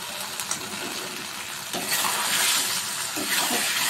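Jackfruit being fried and stirred into a spiced masala in a pan, a continuous close sizzle with scraping stir sounds that swells louder midway.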